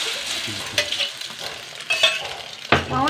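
Food frying in a home kitchen pan, a steady sizzle with a few stirring scrapes and light clinks of a utensil against the pan, heard up close with no talking.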